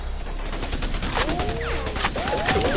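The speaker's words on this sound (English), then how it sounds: "Receiving enemy fire!" Enemy gunfire in the shooter game Raven Squad, loud rapid bursts of automatic fire crackling continuously, with whizzing streaks of passing rounds layered over a battle din.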